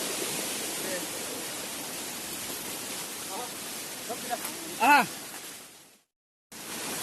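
Steady broadband rush of falling water fills the whole clip, with a brief whistle or squeak rising above it and a short gap of silence near the end.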